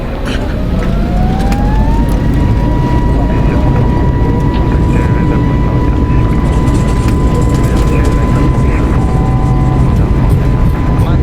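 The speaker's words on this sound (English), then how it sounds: "Clear for takeoff, all lights are on." Steady, loud roar of a Delta Airlines Airbus A320 heard from inside during takeoff, a constant broadband rumble with a rising engine whine that settles into a level tone, with no talking.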